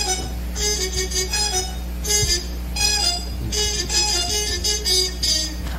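Bright trumpet phrases play in short bursts over a steady low backing, with pauses between the loud passages.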